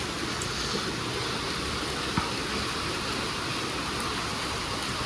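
Rain falls in a steady, even hiss that stays at the same moderate level throughout, with no voices.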